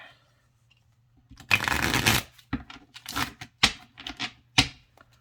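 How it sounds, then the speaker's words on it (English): Tarot cards riffle and slap together in a few bursts, one longer shuffle followed by several shorter flicks, close and crisp with quiet pauses between. "I'm just going to do a quick pre-shuffle here."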